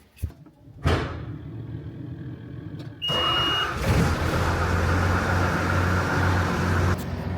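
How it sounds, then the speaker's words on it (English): Farm loader and tractor diesel engines starting one after another, each with a cranking burst that settles into a loud, steady idle, plus a brief high whine partway through and no talk. "get that loader started, tractor started"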